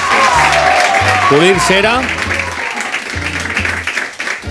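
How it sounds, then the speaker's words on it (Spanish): Audience applause on the V7 Show TV program, a steady wash of clapping running under a presenter's speech and some music-like tones. "Un aplauso para ellos."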